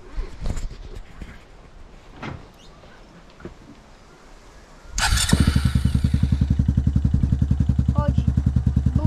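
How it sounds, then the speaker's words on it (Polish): A motorcycle engine with a broken clutch starts after some clatter and handling noises, then idles steadily with a rapid, even putter close by. "Chodzi, buczy. Ale silnik ładnie pracuje."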